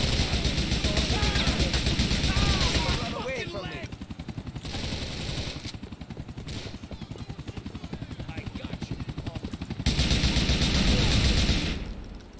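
Bursts of gunfire from Grand Theft Auto 4 play loud and dense, with helicopter-like rotor noise and an ongoing game action roar that dips in the middle and surges back near the end.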